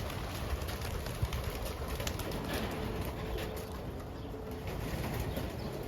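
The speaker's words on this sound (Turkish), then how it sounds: "Eğer siz de hazırsanız kuşlarımızı bir bırakalım." Champion homing pigeons are released, giving a steady outdoor wash of fluttering wings with soft cooing and bird calls, moderately faint and continuous with no talk.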